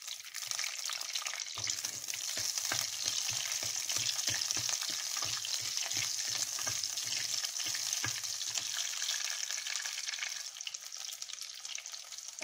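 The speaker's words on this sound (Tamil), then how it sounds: "இதில் வந்து ஒரு 5-6 சின்ன வெங்காயம் போட்டு நான் வதக்கிக்கிறேன்" Five or six small onions sauté in oil for a coconut masala paste, giving a continuous close frying sizzle with a light rhythmic patter of stirring throughout and no voices.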